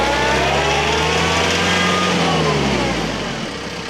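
A TYM tractor engine runs at a steady, even drone close by, holding a constant low rumble that eases off slightly near the end, with no voices.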